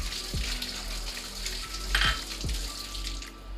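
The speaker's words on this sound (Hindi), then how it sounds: "मैं आपको दिखाती हूँ कि हम इसमें कितना पानी ऐड करेंगे।" Water poured into a thick chicken batter for fried chicken broast, a wet splashing trickle with a few sharp plops and dribbles, close and fairly loud, no talk.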